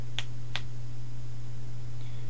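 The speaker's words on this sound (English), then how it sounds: "snapping your fingers is going to work with a cat, like it works with a dog" Two sharp finger snaps, about a half second apart, made to call a cat indoors, close and crisp over a steady low hum, then near silence.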